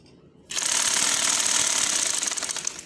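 A sewing machine starts up after a brief quiet moment and runs in a close, steady mechanical whirr with rapid rhythmic clatter while stitching right alongside dori piping.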